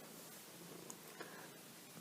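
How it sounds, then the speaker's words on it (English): Patsy, a house cat, purrs softly and continuously nearby, a low even rumble with a couple of faint clicks and rustles, no voices present. "Don't know if you guys can hear her purring"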